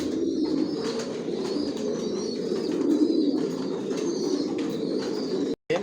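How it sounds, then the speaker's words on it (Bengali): Racer pigeons coo in a loft, a low steady murmur of overlapping calls running throughout with faint higher chirps above. "আমার লফটের সব কবুতর বর্তমানে সুস্থ সবল ভালো আছে"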